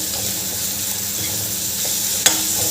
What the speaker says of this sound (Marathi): भाजी घातल्यावर आपल्याला गॅसची फ्लेम थोडी मोठी करायची आहे आणि हे भाजी परतून घ्यायची